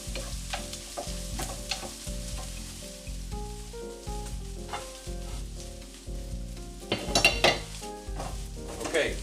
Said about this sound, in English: my egg and mushrooms and onion batter mixture cooked up